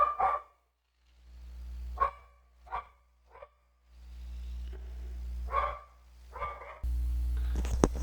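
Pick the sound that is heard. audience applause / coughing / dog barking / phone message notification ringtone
dog barking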